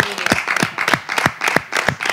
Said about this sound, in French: Applaudissez Eugène.